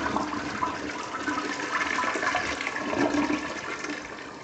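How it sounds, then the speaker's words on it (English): A Sterling Windham toilet in an upstairs bathroom flushing, a loud, steady rushing of water close by that runs without pause throughout. "That was the first flush."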